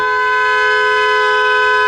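Car horns blare from a long line of cars along an avenue, one loud, steady, sustained tone holding without a break and close by.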